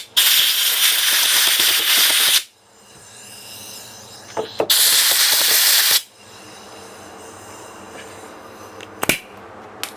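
Compressed air blasting off a bolt on a Mercedes Sprinter van in a workshop, two long loud hissing bursts of a couple of seconds each plus a short final puff, separated by quiet clinks and rattles.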